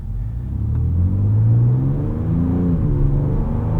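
A 2024 Ford Ranger Raptor with a Ford Performance tune and 10-speed automatic pulls away from a stop, engine rumble rising steadily from inside the cabin, then easing after a smooth upshift.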